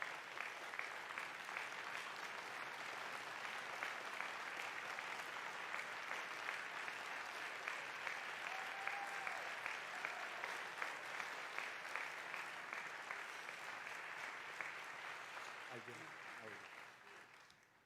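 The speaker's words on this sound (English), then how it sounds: "Okay, they're clapping now." Steady applause from the audience at a televised presidential debate between two candidates, dense and sustained for many seconds before thinning out near the end, with faint talk underneath.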